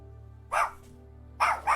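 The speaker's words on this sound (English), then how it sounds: "she's got such a cute bark" A pet dog, a female, gives two sharp barks close by, one short woof and then a doubled bark after a pause, over a low steady hum.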